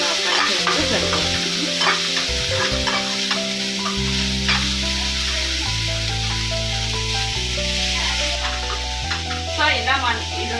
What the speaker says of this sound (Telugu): ఒక 2 to 3 మినిట్స్ అలా ఫ్రై చేస్తే సరిపోతుంది.